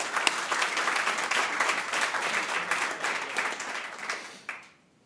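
Dense, steady applause from a conference audience at a DeFi market-making event fills the room, then thins and fades out near the end.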